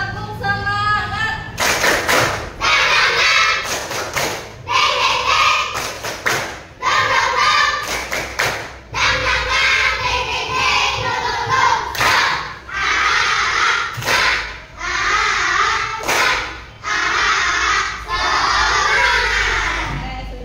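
A class of primary school children performs the rhythmic 'tepuk semangat' clap chant, with sharp, loud bursts of group claps in quick patterned groups and chanted voices, plus short gaps between phrases.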